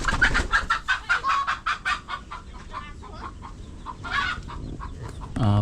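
Hens clucking in a nest while laying eggs, a close run of rhythmic, insistent clucks that eases into quieter, scattered calls.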